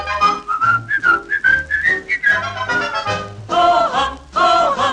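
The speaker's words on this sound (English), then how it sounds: "Pucker up your lips and whistle at the sunlight." A person whistles a cheerful melody in clear, close, connected phrases with short pauses, drawn from a vintage Snow White and the Seven Dwarfs record with soft musical backing.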